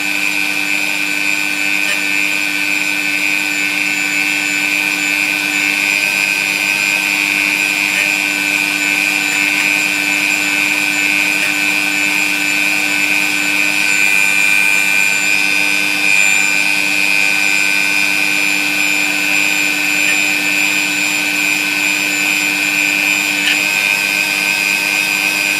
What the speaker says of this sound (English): Keep the tool moving at all times.